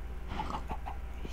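A Minecraft chicken clucks in a few short, mid-pitched bursts over a low, steady background hum, with no one speaking.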